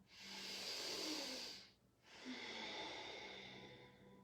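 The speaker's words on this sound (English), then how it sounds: "Take a big breath in and out." Slow, deep breaths during a calm yoga flow: one long, loud airy exhale, a brief pause, then another long breath close to the microphone, with no talking.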